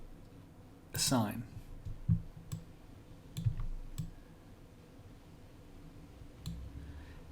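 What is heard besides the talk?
mouse clicking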